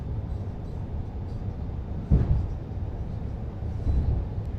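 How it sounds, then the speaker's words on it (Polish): A BR 147 electric locomotive in Train Sim World 6 hums steadily with a low rumble, and a brief thump swells near the middle. The sound is close and continuous, and no one speaks. "Uwielbiam dźwięki tej lokomotywy."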